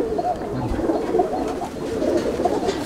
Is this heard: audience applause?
no